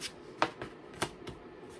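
Tarot cards being shuffled by hand, a series of soft crisp riffles and slaps in an irregular rhythm, close and fairly quiet with no talking.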